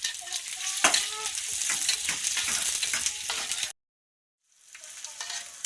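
Pandan leaves, star anise, cloves and cinnamon sizzle in hot oil while being stirred in a pan for an Acehnese shrimp dish. Steady close frying hiss with scraping stirs cuts out briefly to silence, then the sizzle returns.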